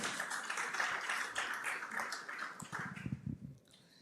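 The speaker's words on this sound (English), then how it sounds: "Ladies and gentlemen, a better round of applause for our guest." An audience at a university innovation week and industry summit claps in a dense, sustained round of applause that thins into a few scattered claps and then fades out.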